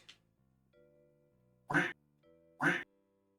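Two short, loud duck quacks from the cooking game PlateUp, spaced about a second apart, over soft electronic chime tones in the game music.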